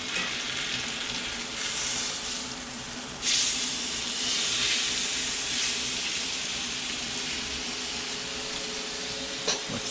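A steak sizzles in a hot pan with butter after being flipped. The frying hiss is steady and close, with a brief flare of louder spitting partway through and again near the end.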